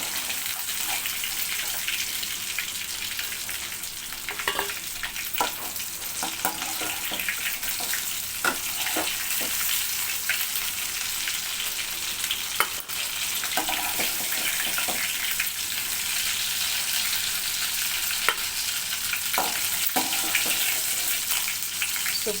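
Chicken 65 deep frying in hot oil: a steady, dense, hissing bubble that stays loud and even throughout, with occasional faint knocks over it.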